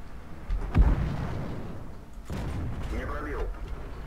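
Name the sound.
tank gun firing in the video game World of Tanks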